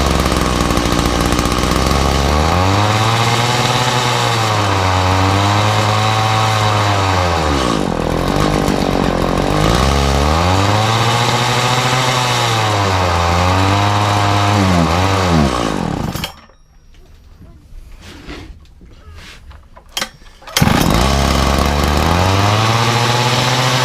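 A Makita disc saw's two-stroke engine running loudly up close, revving up and down in repeated waves, then briefly cutting out to near silence with a few clunks before roaring back.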